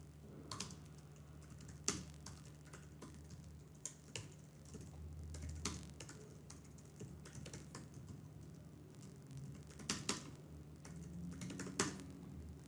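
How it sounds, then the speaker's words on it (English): Computer keyboard typing, a quiet steady run of light key clicks with occasional sharper taps over a low hum, no voice. "So let's type HTTP client."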